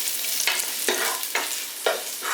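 Green chillies frying in a pan are stirred with a spoon, giving a steady sizzle broken by four or five scraping strokes at an even pace, close and clear with no talking.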